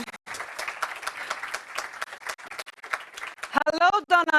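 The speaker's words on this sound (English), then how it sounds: "Let's give them a round of applause." A crowd claps in dense, steady applause for a few seconds, then a person starts talking as the clapping stops.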